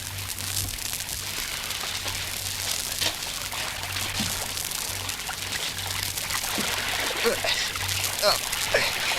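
Continuous broadband rush of river water flowing steadily through a wooded setting in an audio drama, with a low hum running beneath and occasional faint speech over it.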